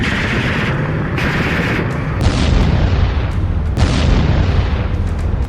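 Missile attack explosions in Donetsk, Ukraine, heard as a series of heavy booms and bursts, several sharp loud impacts rising over a constant rumbling background.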